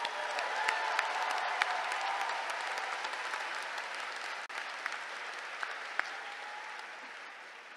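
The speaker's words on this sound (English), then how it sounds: "One more round of applause for all of our doctoral graduates." Steady applause from a commencement audience honoring doctoral graduates, dense and continuous clapping filling the hall at an even level throughout, with no talk over it.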